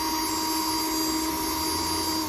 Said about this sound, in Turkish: önce kovanın altına su geçsin diye bir iki tane delik açıyorum